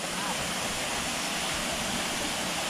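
A steady, full-spectrum roar of a waterfall at Gozalandia, Puerto Rico, loud and close, constant throughout with no breaks.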